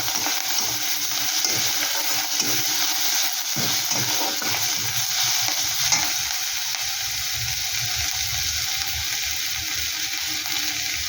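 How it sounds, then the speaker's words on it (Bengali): Ginger, garlic and green chili lightly frying in a pan make a steady sizzle, with a spoon stirring and scraping through it close up, no voices. "আদা রসুন আর কাঁচা লঙ্কা গেট করে দিয়ে দিচ্ছি একটু হালকা করে একটু ভেজে নেব"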